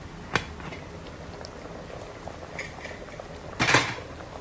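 Achara and oha soup bubbles steadily in a covered pot on the stove, a low continuous simmer marked by a couple of sharp metallic clinks of the lid and utensils.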